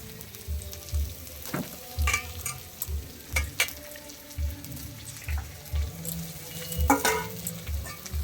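Meat fries in a pan with onions and capsicum at an outdoor rooftop winter picnic, a continuous crackling sizzle broken by regular dull scraping knocks of stirring roughly every second, close and moderately loud.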